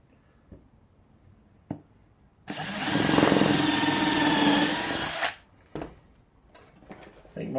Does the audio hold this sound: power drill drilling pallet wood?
yes